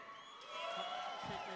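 Audience at an awards ceremony at Carnival City breaks into sustained cheering and whoops with applause, a dense crowd roar that swells partway through and holds steady.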